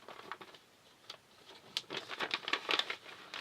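Crinkling plastic bag being opened to get at sheets of large format film, a run of light irregular rustles and crackles that grow busier and louder toward the end, close up with no talk.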